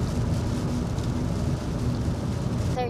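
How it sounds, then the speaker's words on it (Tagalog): Heavy rain falls in a steady, loud, broadband wash that continues unbroken for the whole stretch. No clear speech is heard over it. "Ang lakas ng ulan dito,"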